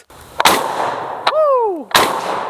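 Bullpup rifle firing at an outdoor range: three sharp, loud gunshots spaced unevenly, with a rising-falling whistle-like tone between the second and third, no talk.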